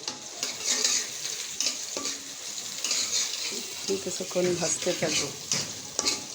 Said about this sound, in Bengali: তেলটা একটু গরম হয়ে আসলে পেঁয়াজ দিয়ে দিব। পেঁয়াজটা কিছুক্ষণ আমি ভাজতে থাকবো।